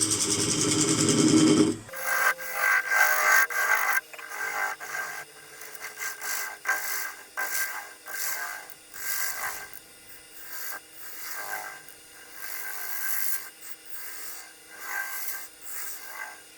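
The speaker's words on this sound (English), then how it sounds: "Going to use a parting tool to cut in a mortise." A parting tool cuts a mortise into the base of a beech crotch bowl spinning on a lathe: a steady scraping rasp over the machine's hum, loudest at the start, then continuing in uneven pulses.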